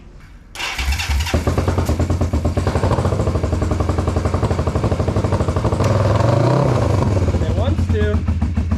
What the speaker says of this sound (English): So I'm gonna start try to fire it up.